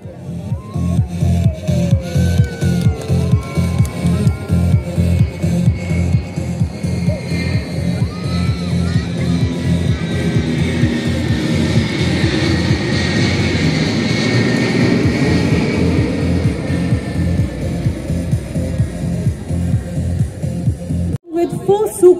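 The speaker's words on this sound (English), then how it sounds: "Sukhoi 30 MKI multi-role fighter aircraft in escort role" A formation of C-130J transport aircraft with Sukhoi 30 MKI fighter escorts flies over Sukhna Lake, Chandigarh, at an Indian Air Force show rehearsal: a loud, pulsing propeller drone builds and passes overhead, its pitch sliding downward, before cutting off abruptly.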